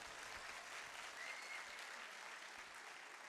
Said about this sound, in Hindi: इसके लिए तालियां बजा दीजिए।